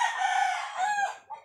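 A gamecock rooster crows loudly and close during sparring, one long harmonic call followed by a short clucking note at the end.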